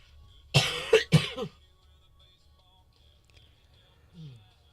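A couple of sharp, close coughs in quick succession, followed by a brief throat-clearing sound, then quiet.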